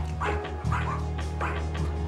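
Several dogs kept in a cluttered hoarder's home bark and yip in short, loud repeated bursts, close by and overlapping, over a constant low indoor hum.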